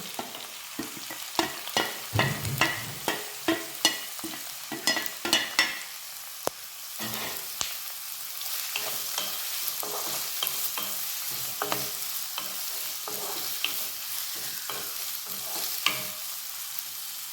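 Crushed shallots and garlic fry in coconut oil in a pan, with sharp crackles and pops early on settling into a steady close sizzle, punctuated by stirring scrapes, and no talk.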